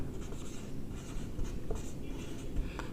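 Chalk or marker strokes on a classroom board, faint short scratchy squeaks in an uneven rhythm during a Hindi-medium maths lesson, with no talking.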